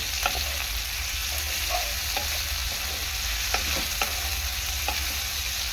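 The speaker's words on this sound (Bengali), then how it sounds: "একটুখানি পরিমাণ এই যে লবণ দিলাম, দিয়ে আবারও ভালো করে নাড়াচাড়া করে নেব" A spoon stirs lote fish and spinach curry in a hot pan, a steady loud sizzle of frying running throughout with occasional soft scraping taps of the utensil against the pan.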